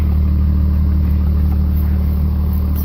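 A Dodge truck loaded with maple sap rumbles along a sandy, muddy woodland track, its engine a loud, steady low drone heard from inside the cab with no voices.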